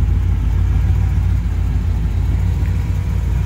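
A 1948 Chevrolet Fleetmaster street rod engine idling through dual exhaust, a steady low rumble with an even throb, close and continuous.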